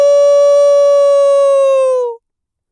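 A voice imitates a wolf howl in a head-voice singing exercise: one loud, sustained open 'awoo' tone held steadily for about two seconds before it cuts off cleanly, with nothing else heard.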